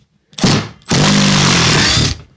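Milwaukee hex impact driver backing a countersunk screw out of material: a short burst of whirring and hammering, a brief pause, then a longer sustained rattling run of about a second, loud and close, with no talking.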